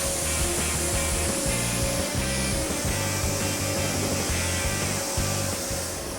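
A spray gun hisses in steady pulses as Viper Red paint goes onto a Honda Civic rally car, with a broad continuous mist of noise and no talking.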